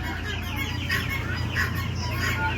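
Egg-laying quails on a farm give a steady, close chorus of short chirps and clucking calls that overlap without pause, over a low constant hum.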